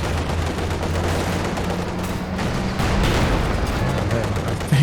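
Katyusha rocket barrage in Company of Heroes 2, a World War II strategy game: a steady, dense wash of rumbling gunfire and explosions lasting throughout, swelling slightly near the end over a low engine-like drone.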